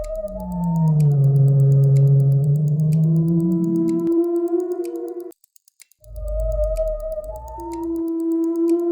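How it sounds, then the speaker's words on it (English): A whale calls in long, rising and falling tonal moans with higher harmonic whistles, two loud sustained phrases split by a brief silence, heard alone. "It's a whale."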